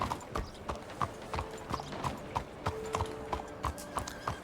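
Horse hooves clip-clop in the Red Dead Redemption 2 video game, a quiet, steady rhythm of clear hoofbeats at an easy walking pace, with no talk over them.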